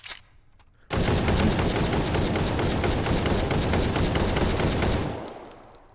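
A Saiga shotgun fired in the VR game H3VR: after a quiet moment, a loud, dense, unbroken string of rapid shots runs for about four seconds, then trails off into fading echo.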